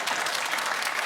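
A studio audience at a British comedy panel show breaks into loud, steady applause, a thick wash of clapping with no gaps.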